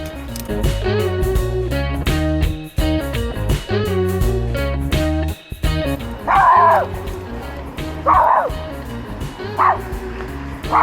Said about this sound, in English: He's barking at the man across the street there.